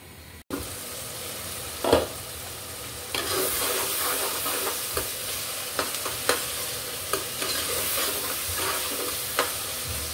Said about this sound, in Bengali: এবার কম জালে আমি পেঁয়াজ আর টমেটোগুলো সফট করে নিব।